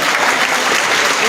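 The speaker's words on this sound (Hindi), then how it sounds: "तालियां बजते हुए" Steady applause from an audience at a Lions Club Gangapur City sanitation workers' honour ceremony, dense continuous clapping throughout, fairly loud and close.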